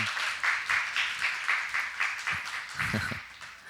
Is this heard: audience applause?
yes